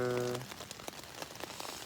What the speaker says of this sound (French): je sais pas si vous pouvez entendre la pluie sur la tente